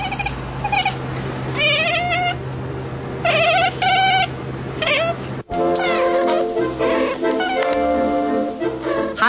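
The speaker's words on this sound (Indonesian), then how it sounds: "kucing lucu ini berbicara terus tanpa henti" A cat meows over and over, with loud, close calls coming in quick bursts and long wavering cries for the whole stretch.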